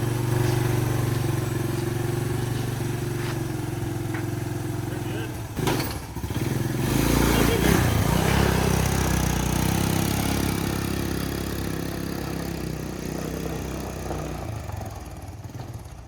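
The engine of an abandoned three-wheeler runs with a steady low rumble at close range, with a brief thump in the middle and the idle continuing throughout.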